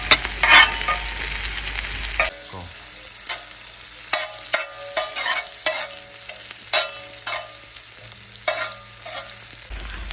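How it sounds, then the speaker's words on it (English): Cinnamon sticks and cumin seeds frying in hot oil for lamb keema balti: a loud close sizzle opens, then a run of sharp scraping stirs against the pan over a quieter hiss, with no voices. "To this, I'm going to add my cinnamon sticks and my cumin seeds, so they have a chance to fry in that oil."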